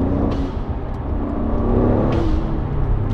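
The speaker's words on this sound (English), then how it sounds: "you get that sort of turbo drama that you want from a blow-off valve" An Alfa Giulia Quadrifoglio's turbo engine drones loudly and steadily, broken by two short, breathy whooshes from its blow-off valve.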